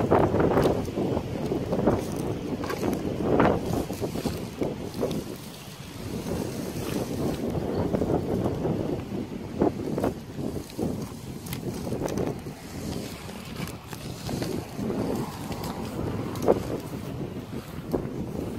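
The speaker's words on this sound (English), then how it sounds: "We're getting a nice breeze." A breeze blows outdoors on a property where a tractor pulls dead trees, with steady gusty wind noise buffeting the microphone for the whole stretch, loud and continuous without talk.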